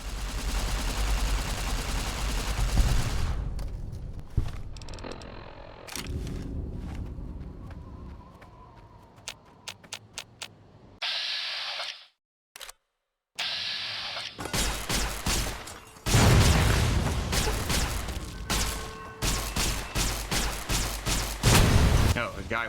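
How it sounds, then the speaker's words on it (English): Warhead detonation in a shooter video game, with bursts of loud gunfire and booming blasts, broken by brief silences, then heavy explosive rumble and rapid shots. "I guess I'll just detonate that warhead over there."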